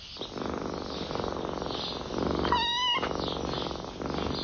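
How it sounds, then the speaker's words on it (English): Kittens at feeding time purr steadily and close up, with one clear meow rising in the middle and no voices. "Every few hours, the kittens come running."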